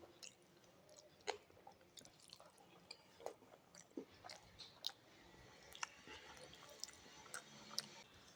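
Someone chewing kottu parotta soaked in salna, close and quiet, with soft repeated wet mouth clicks and smacks in an irregular rhythm against a faint background.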